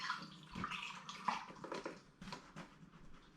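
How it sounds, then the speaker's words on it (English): Apple juice pours through a funnel into a fermentation vessel for a raspberry and rhubarb cider, a steady, soft liquid rush and gurgle lasting a few seconds, close and fairly quiet with no voices. "this now goes through the funnel into the fermentation vessel"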